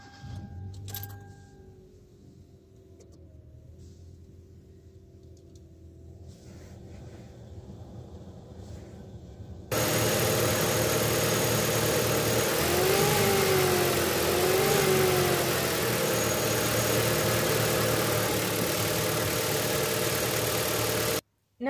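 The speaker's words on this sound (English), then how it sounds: "I will increase the RPM to 1500" A car engine idles under an electrical load from the headlights, fog lights, AC and fan during an alternator test, then steps up abruptly to a louder, steady hum at about 1500 RPM that holds to the end.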